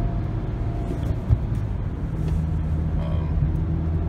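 A car driving on the road makes a steady low engine rumble and road noise from inside the vehicle throughout, with a brief bump partway through and no talking.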